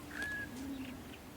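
Birds coo and call in a video game forest setting, a brief clear tonal call with a softer low cooing line beneath, fairly close and alone over a quiet ambient bed.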